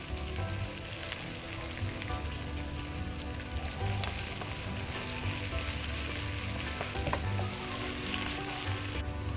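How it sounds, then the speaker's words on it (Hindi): Okra pieces fry in hot oil in a pan, a continuous crackling sizzle like light rain that holds steady throughout, close and fairly quiet, with occasional stirring clicks and no voices. "और इसको तब तक हम फ्राई करेंगे जब तक इसके अंदर लेस है।"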